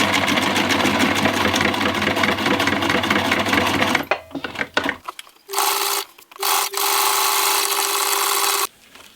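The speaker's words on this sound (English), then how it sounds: "I'm going to sew on my little Velcro tab on the inside of this now" A sewing machine stitches a Velcro tab onto waxed canvas, a fast, steady mechanical whirr at close range that stops, then runs again in shorter bursts with brief pauses.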